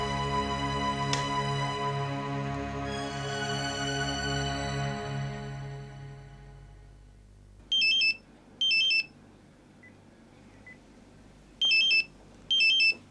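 A sustained electronic mobile phone ringtone chord fades out, followed by four short bursts of a bright electronic ring in two pairs, with quiet between them, in a TV drama scene.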